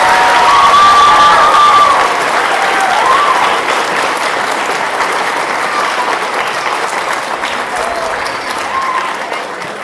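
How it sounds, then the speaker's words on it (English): A dense, loud burst of audience clapping fills a sixth-grade school awards ceremony, sustained for about ten seconds with some cheers and voices mixed in, easing slightly toward the end. "Now you may give them a round of applause"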